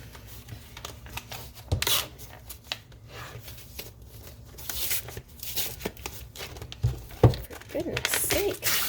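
Stuck plastic packaging is torn and ripped from a 120-piece oil pencil set, giving sharp crinkling, tearing bursts in several uneven pulls close by, with a person talking in between.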